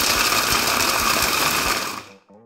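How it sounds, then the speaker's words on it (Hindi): A mini kitchen grinder whirs loudly and steadily as it crushes walnuts, pistachios and almonds, a close, harsh mechanical drone that winds down and stops near the end. "तो मैं इसको मिनी ग्राइंडर के अंदर बस जा रही हूँ इसको क्रश करने के लिए"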